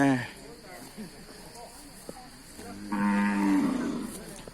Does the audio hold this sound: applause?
no